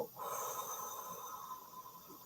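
A deep breath out during a guided breathing exercise: one long, airy rush of exhaled air, close and steady, lasting about two seconds before tapering slightly.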